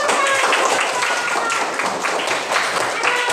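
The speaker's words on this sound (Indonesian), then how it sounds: "tepuk tangan" Students applauding in a classroom, a dense patter of many hands clapping that holds steady for several seconds, fairly loud and close.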